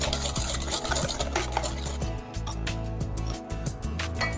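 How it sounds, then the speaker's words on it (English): A spoon stirring chocolate cake batter with vanilla extract in a bowl, a steady scraping and clinking that continues without a break, fairly quiet, with no talking. "Continue to stir it."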